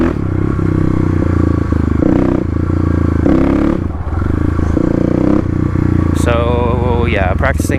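A Kawasaki KLX351 dirt bike with its airbox lid removed pulls hard in second gear, a loud, steady engine drone with harmonic revving that rises near the end, while a rider speaks over it.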